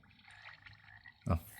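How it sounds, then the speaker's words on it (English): Frog croaking alarm tone on a Unihertz Titan 2 phone, a few soft croaks that build to one louder croak near the end, played alone without speech. "Oh, frogs."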